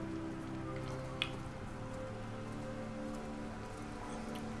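Steady rain falls on a campsite in the game Everybody's Gone to the Rapture. The patter is an even, continuous hiss with one brief, sharper drop partway through, and nothing else stands out above it.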